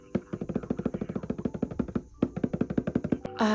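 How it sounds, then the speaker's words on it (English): A rapid run of sharp, hollow taps on taut fabric in an embroidery hoop, evenly spaced and drum-like, with a brief pause midway before the tapping resumes, ending in a brighter rustle. "We want our fabric to sound like a drum when it's in the hoop"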